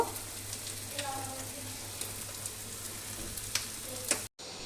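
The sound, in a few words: bread slices frying in a pan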